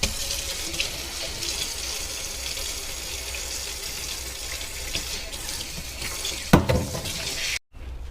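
Water runs steadily from a tap into a sink while fish is being cleaned, a constant close hiss with a brief louder splash near the end before it cuts off.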